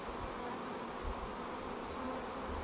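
Honey bees swarm around a hive with capped frames on a bright evening, their dense, continuous buzz filling the air evenly and steadily with no voices.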